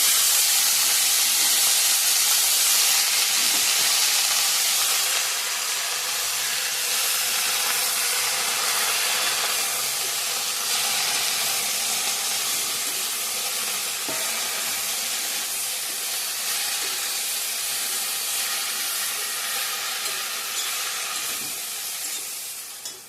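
Leafy greens dropped into hot oil with dried chillies, garlic, onion and panch phoron sizzle in a loud, continuous hiss that holds steady for many seconds, close up, with no talking.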